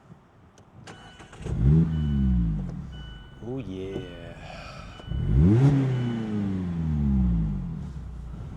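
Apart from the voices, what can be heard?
Mazda Miata engine with Goodwin Roadster Sport exhaust revving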